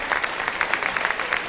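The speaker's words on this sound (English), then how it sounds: "She receives a round of applause for falling over" A sports hall crowd at a women's Euro 2014 quarter-final, Wales versus Slovenia, gives a light, scattered round of applause for an injured player leaving the court, heard somewhat distant and thin.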